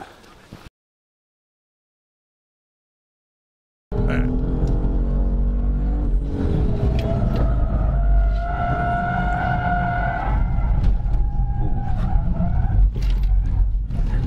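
BMW M4 spinning through a 360 with tyres skidding and squealing, a loud sustained screech over engine roar after a brief silent gap, with a voice talking over it.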